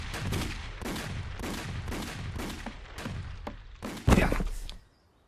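Rapid bursts of cartoon gunfire from an animated firing squad, a steady rattling volley of shots lasting several seconds with a louder final blast before cutting off, no talking.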